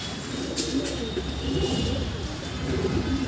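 Pigeons coo softly and repeatedly from close range over a steady background hum, with a few faint chirps mixed in.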